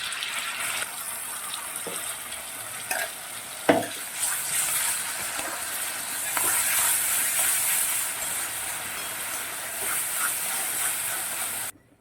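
Boiled chickpeas and ground taro greens are stirred into hot oil in a pan, giving a steady close sizzle and hiss with occasional scraping stirs and a sharp clack near the start, and no talking.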